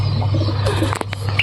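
Pigeons at a home loft kept for sale, cooing softly with brief bursts of wing flapping near the end, over a steady low hum.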